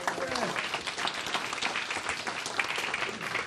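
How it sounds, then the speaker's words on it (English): A conference audience applauds steadily, a dense wash of clapping that continues throughout, with voices mixed in underneath. "Big round of applause for Fred Hassan."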